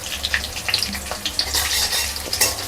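Mint chutney mixture frying in a pan, with a loud, constant sizzle and a spoon stirring and scraping through it in quick, uneven strokes close up.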